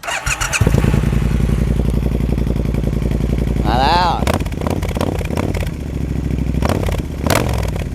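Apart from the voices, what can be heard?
motorcycle exhaust revving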